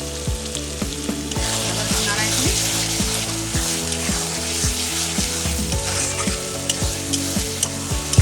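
Masala with chili powder fries in a pan for mutton, sizzling loudly and continuously as a spoon stirs it with repeated scrapes. A steady tonal hum runs underneath throughout.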